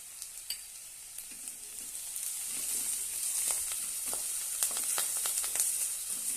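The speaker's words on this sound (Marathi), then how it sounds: "कांदे छानपैकी आपले भाजून झालेले आहेत" Onions and curry leaves sizzling in oil in a pan, a bright crackling hiss that grows louder and busier partway through, with occasional scraping of a stirring spoon, no voices.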